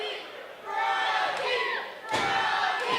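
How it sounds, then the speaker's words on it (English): Wrestling crowd at a Pro Wrestling EGO show chanting for a frog splash, a loud, sustained roar of many voices swelling in waves with a brief dip near the end. "Crowd calling for that froggy splash or the froggy elbow."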